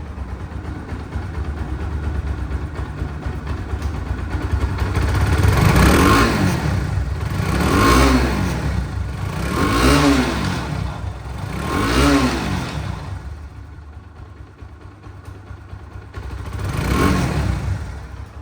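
A second-hand Bajaj Pulsar motorcycle engine, just self-started, runs steadily, its note rising and falling through several revs before settling back toward idle, close and fairly loud.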